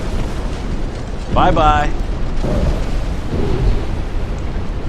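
Torpedo hits on a warship in Ultimate Admiral: Dreadnoughts: a sharp explosive burst followed by rumbling booms that roll out and fade, mixed with a brief spoken voice.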